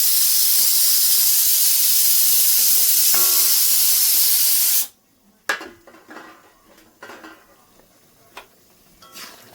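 Vegetable stalks dropped into a pan of fried spice paste, a loud sustained sizzling hiss that cuts off sharply midway, followed by quieter clinks and scrapes of stirring in the pan.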